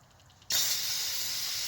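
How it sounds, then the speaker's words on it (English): A pressure sprayer blasting dirt off a Mazda RX-7 FD: a faint mechanical hum, then a sudden loud, steady hiss of spray that starts abruptly and holds evenly to the end, close up. "Alright, all we're gonna do here is just spray."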